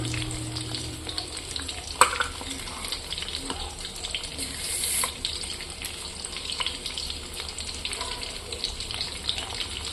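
Fish, already salted, fries lightly in oil in a home kitchen: a continuous sizzling crackle with occasional sharper pops and clinks, steady and close, without talk.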